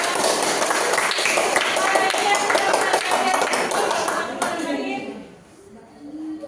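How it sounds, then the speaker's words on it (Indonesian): Classmates clap for a student group in a classroom, a steady patter of many hands that fades out toward the end, with voices talking over it. "Tepuk tangan buat kelompok 3"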